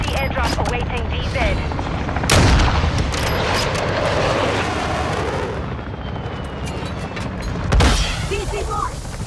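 Explosions and gunfire from a Call of Duty: Modern Warfare III strike landing near the player, with a dense, constant roar of combat and two heavy blasts standing out, one early and one late, while a voice speaks over the din.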